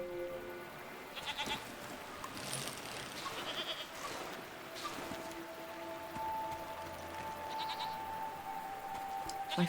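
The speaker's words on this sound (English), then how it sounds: "Goats?" Goats bleating in a farm setting: several wavering calls, some near and some farther off, rise over a steady background hiss that sounds like rain.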